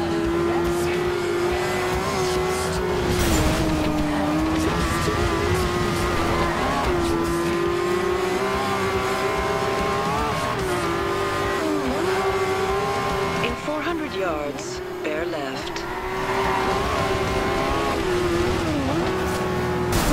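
Race car engine in the Forza Horizon 2 video game, a sustained high drone rising and falling through gear changes, with bursts of tire squeal and skidding, under a speaking voice and the game's navigation prompts.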